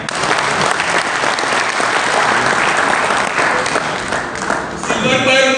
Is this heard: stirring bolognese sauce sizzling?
no